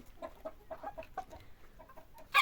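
Young Lohmann Brown hens about four months old clucking softly in a flock, a run of quiet, close chirrupy calls ending in one louder squawk.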